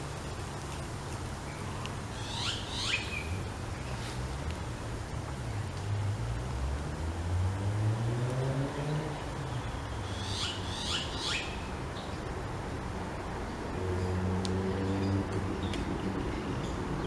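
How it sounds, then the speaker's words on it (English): Birds call in quiet bushland at Noosa, with a few bright chirping bursts standing out over a steady low background and some lower warbling calls, all heard at a moderate distance with no talking. "it's just so peaceful, just the bird life."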